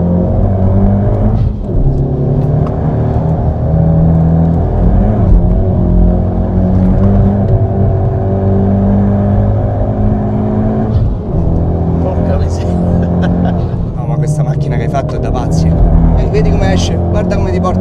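A Ford Focus ST engine revs and pulls hard under steady load with the throttle held down, loud and close, with people talking over the engine noise throughout.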